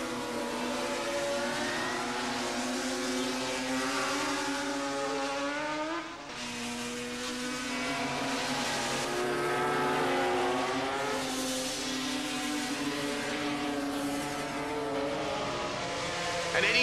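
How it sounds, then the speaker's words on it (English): GP 500 racing motorcycles scream around a track during a race, their high-pitched engines wailing and shifting continuously over a long pass, with broadcast commentary heard at a distance. "Gardner takes the lead with only 6/10 of a second between the first three placings"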